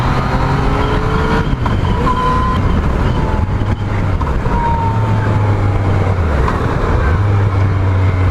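A 2017 Yamaha MT-09 motorcycle engine drones steadily up close, its pitch stepping up and down through gear changes and throttle shifts, with engine braking and constant road and wind noise throughout.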